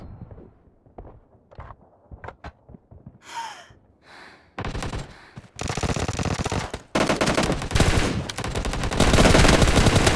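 Automatic gunfire from PUBG Mobile in a team deathmatch, starting with sparse scattered shots and a few gasps, then building into loud, sustained bursts of rapid fire that grow denser and louder to the end.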